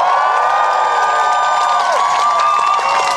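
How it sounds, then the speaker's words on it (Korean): An outdoor concert crowd at the Pyeongchang Peace Festival, on a rainy evening, applauds and cheers in a loud, sustained roar with scattered shouts and whoops throughout. "박수 한번 주세요."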